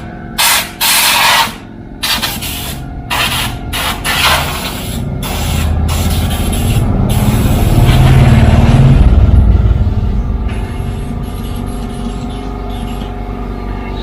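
A spray gun applies matte paint to a car body, with a few short hissing bursts at first that settle into a long, continuous close-up spray hiss swelling and fading.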